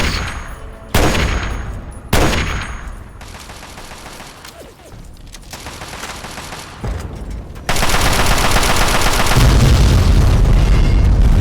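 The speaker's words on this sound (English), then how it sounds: "Look at all the explosions going on." Fallout 3 battle with Brotherhood Paladins: sharp booming blasts and bursts of gunfire, two loud explosions early, then rattling fire and a dense, loud barrage of shots filling the final seconds.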